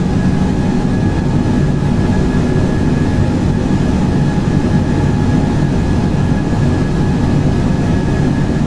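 Four jet engines of a Boeing 747 at full takeoff throttle in Microsoft Flight Simulator make a loud, steady low roar with a thin whine layered on top, unbroken from start to end.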